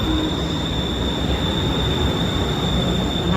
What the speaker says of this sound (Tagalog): Mahaba yung train ng green line kasi marami sumasakay dito.